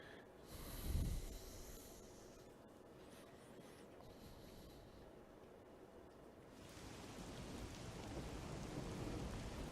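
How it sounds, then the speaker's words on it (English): Rain falls in a scene from the video game Master Detective Archives: Rain Code. It makes a faint, steady hiss with a low rumble near the start, and the wash grows slightly denser toward the end. "The faint sound of a ticking clock melts against the sound of rain."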